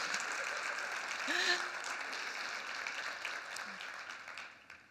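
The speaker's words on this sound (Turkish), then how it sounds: "Uşak'a bir alkış istiyorum." Faint applause from an audience at a business networking meeting in Afyon, steady clapping that swells briefly then fades toward the end.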